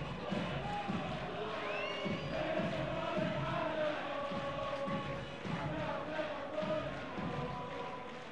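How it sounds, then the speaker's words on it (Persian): Spectators at a football stadium cheering for Esteghlal Tehran against Mes Sarcheshmeh, a steady distant crowd roar with rhythmic chanting and whistles, under a commentator's voice. "تماشاگران حاضر در ورزشگاه که از دوستان استقلال هستن و این تیم رو تشویق میکنند."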